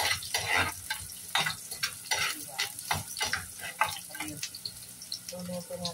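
Squid sautéing in a pan, sizzling and crackling while a spoon stirs and scrapes at it, close and fairly quiet, with clattering in the background.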